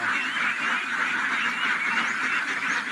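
A flock of domestic ducks raised on a farm quacks and honks continuously at moderate distance, a dense overlapping chorus with no pauses across the three seconds.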